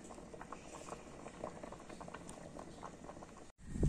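Tomato sauce at a steady boil in a pot on a home stove, with continuous close bubbling and popping, plus a brief handling knock at the end.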